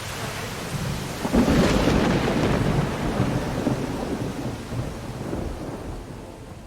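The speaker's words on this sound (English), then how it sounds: "Torrential downpour right now." Heavy rain pours down steadily while thunder rumbles and swells, loud and close, with no voices.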